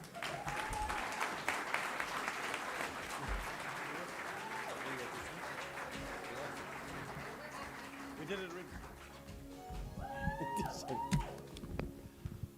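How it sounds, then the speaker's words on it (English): An audience at the Gems Spirit of Comrades Awards 2025 applauds steadily with cheering voices mixed in, while a person talks over the clapping toward the end. "give a man a round of applause"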